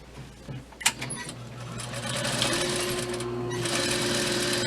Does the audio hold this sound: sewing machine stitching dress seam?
yes